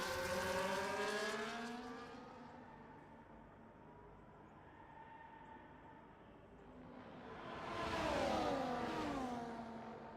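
A Formula 1 car from the F1 24 racing game howls past on a straight under DRS, its engine note rising, sweeping away and then returning loud with a second pass, no talking over it.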